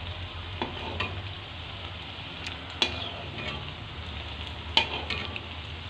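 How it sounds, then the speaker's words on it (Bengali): Cabbage and potato chops deep-frying in oil, a steady bubbling sizzle throughout with a few sharp clinks of utensils standing out, no voices. "এই যে চপটা আমার ভাজা এখন হয়ে গিয়েছে।"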